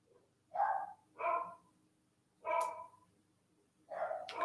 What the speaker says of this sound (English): Now the dogs are barking again